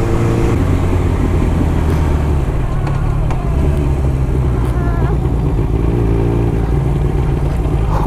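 Yamaha R1 motorcycle engine revving loudly and continuously on a street, with traffic noise and a voice talking faintly beneath the steady engine roar.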